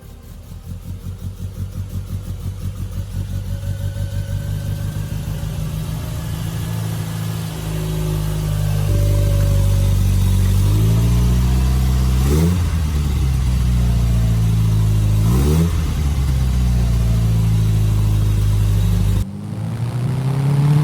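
A restored 1963 Triumph TR4 with its 2138cc OHV four-cylinder engine idles with a steady throb, then revs up several times in rising and falling bursts, loud and close with no talk.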